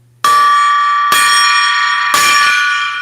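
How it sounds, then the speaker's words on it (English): A metal gong struck three times at roughly one-second intervals, each loud, bright hit ringing on with a sustained shimmering tone. "I got to get the gong again."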